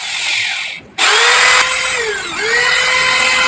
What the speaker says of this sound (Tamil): நம்ம அந்த இடத்துல வச்சுட்டு ட்ரில் பண்ணுறோம்.